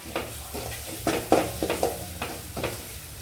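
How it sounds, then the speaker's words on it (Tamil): Dried red chillies sautéing in a pan for tamarind rasam give soft, faint sizzling with a few brief stirring scrapes at irregular intervals. "வரமிளகாய் அது 1 நிமிஷம் வதங்கட்டும்."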